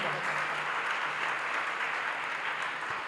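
Sustained audience applause at a Jain religious discourse, honoring children who sang an aarti; dense, steady clapping from many hands throughout, fairly even in loudness, with no talk over it.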